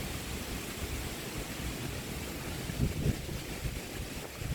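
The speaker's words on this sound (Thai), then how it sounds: "ลมค่อนข้างจะแรง" Strong wind gusts across an open outdoor spot in Thailand, a broad continuous rushing roar buffeting the microphone with a couple of heavier low thumps near the end.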